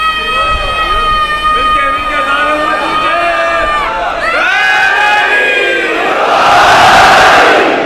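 A crowd at a majlis gathering during Muharram chants religious slogans in loud, close unison, voices rising and falling together in sustained waves, swelling into a louder burst of shouting near the end.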